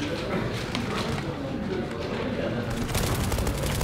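Gunfire in the online shooter game Zula during a tournament match, with dense rapid bursts of shots crackling continuously and growing sharper near the end, under a busy mix of game noise.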